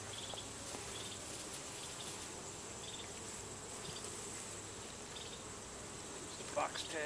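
Honeybees hum in a steady, fairly faint drone around a hive during a honey harvest, with a few closer buzzing passes and a small knock near the end.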